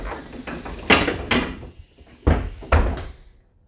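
Rear door of a city bus (Wagen 1024) closing, with a few pneumatic hisses and clunks as the panels move and seal shut, close and fairly loud.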